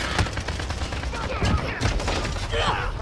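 Call of Duty Modern Warfare gunplay with dense, continuous hip-fired automatic gunfire crackling loud and close, rapid shots overlapping through the whole stretch.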